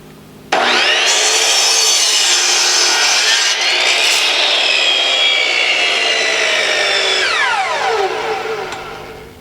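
A saw cuts through a wooden piece for a large propagation frame, one steady loud stroke-driven rasp starting abruptly and running nearly nine seconds with a slight pitch sweep before trailing off, no talking.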